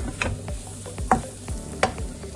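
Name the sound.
stirring spice mix with onions in a pan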